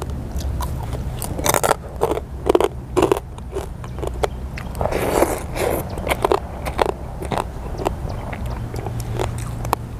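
Crispy pork rinds are bitten close up, giving a string of sharp, loud crunches at an uneven pace with brief crackly pauses between bites. No one speaks.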